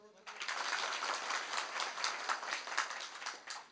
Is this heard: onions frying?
no